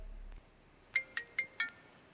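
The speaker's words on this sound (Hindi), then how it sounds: "फोन बज रहा है महाराज, फोन फोन फोन की आवाज आ रही है।" A phone ringtone rings out as four short, bright chiming tones in quick succession, clear and close in an otherwise quiet room.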